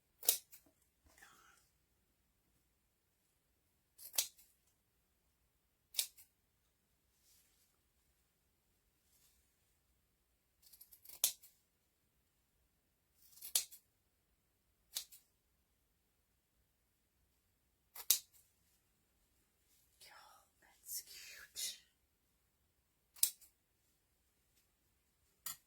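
Scissors cut paper for a popsicle-shaped door hanger craft in short separate snips, crisp and close against an otherwise quiet room, with a few faint rustles between cuts.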